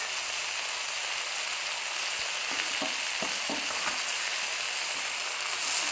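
Leafy greens fried with garlic and onion sizzle steadily in a pan while being stirred, with a few scraping clicks from the utensil partway through, close and fairly loud, no voices.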